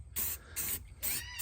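Spray paint hissing onto a stretched Crown Victoria frame in long sweeping strokes, heard as three short, close bursts with brief gaps between them.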